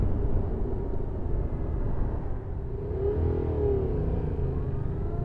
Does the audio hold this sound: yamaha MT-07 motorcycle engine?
yes